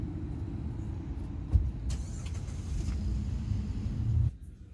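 A car driving with a diagnostic scan tool connected, giving a steady low road and engine rumble with a brief thump partway through, before the noise cuts off abruptly near the end.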